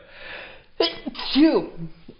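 A single sneeze close to the microphone, a sharp inhale then a burst, followed by a brief vocal sound.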